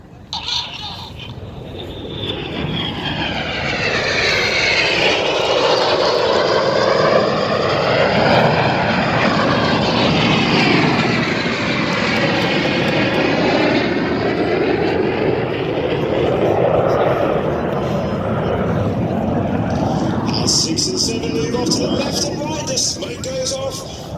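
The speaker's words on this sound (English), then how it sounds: "Your eyes to the left, here come the rest of the aircraft." Aerobatic display team jets sweep past in formation at the 2018 Battle of Britain air show at Duxford. A loud, sustained roar rises and falls as they pass, with a commentator's voice running underneath.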